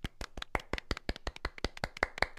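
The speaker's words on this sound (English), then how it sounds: "That counts as a round of applause." A brief burst of hand clapping, sharp irregular claps in quick succession from a small group, fairly close, with no voices.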